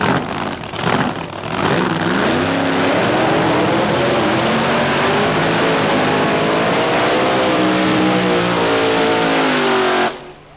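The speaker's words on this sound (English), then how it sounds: "Heat those tyres. 17-inch wide slicks on those, so you really need quite a lot of revs to get those things to spin." Drag race car doing a burnout on 17-inch wide slick tyres at an Australian drag meet, engine held at high revs in a loud, sustained roar with rising and wavering pitch, then cutting off sharply near the end.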